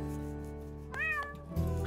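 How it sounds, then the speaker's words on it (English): A cartoon cat meows once in a children's animated show, a clear rising and falling call standing out above steady background music, with a short thump near the end. "Excuse me, Suffy, whilst I tend to my cat."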